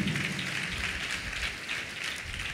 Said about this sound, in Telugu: చప్పట్లు కొడదాం అందరూ